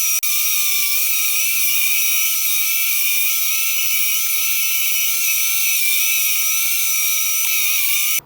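A power tool cutting poplar plywood pieces, a continuous high-pitched whine held steadily for several seconds at close range, cutting off abruptly at the end.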